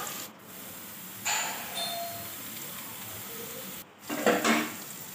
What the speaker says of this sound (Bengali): একটু ভালো করে নেড়ে চুড়ে ভেজে নেব।